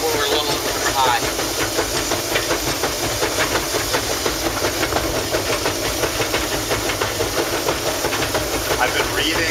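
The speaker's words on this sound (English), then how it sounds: "we supply air to the reservoir with a steam-operated air pump" A steam-operated air pump on a steam locomotive works beside the tender, giving a loud, steady hiss with rapid rhythmic chuffing pulses and a low mechanical rumble, with a voice talking over it.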